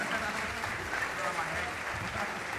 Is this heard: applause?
yes